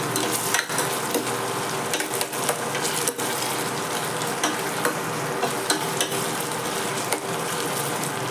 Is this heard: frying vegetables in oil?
yes